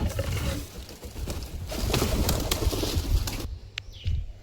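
Pigeons emerging from their coop, with bursts of wing flapping and fluttering close by, some cooing, and scattered knocks and rustles; the flurry thins out near the end.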